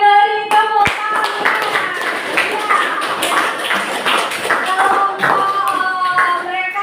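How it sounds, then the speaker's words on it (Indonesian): Classroom of teachers or students clapping together during a lesson, a lively burst of many hands patting at close range, with bright tonal sounds and some voices mixed in. "Oke, beri tepuk tangan."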